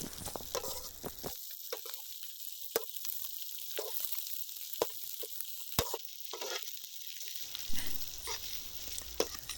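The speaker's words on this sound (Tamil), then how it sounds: "சின்ன வெங்காயம் கலர் மாறுற வரைக்கும் நல்லா வதக்கிக்கோங்க" Small onions and capsicum sauté in a pan with a continuous close sizzle and occasional stirring scrapes, with no talking.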